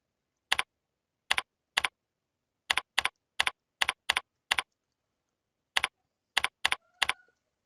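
A computer keyboard is typed on as a file name is entered: about a dozen crisp, close keystrokes in irregular bursts, separated by silent pauses.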